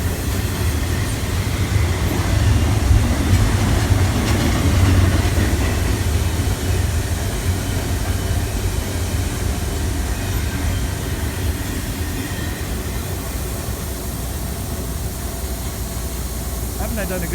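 Norfolk Southern single-stack intermodal freight train passing, a loud, sustained rumble of rolling cars with rhythmic wheel clatter and faint squeals, steady for the whole stretch.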